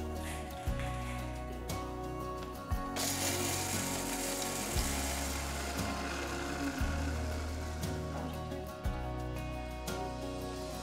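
A mixer grinder whirs as it grinds roasted ingredients for Andhra gongura (sorrel leaf) chutney, with a steady mechanical drone and a rhythmic rattle that turns into a fuller, rougher grinding roar partway through.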